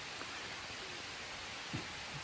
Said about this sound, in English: I'm getting rained on again, so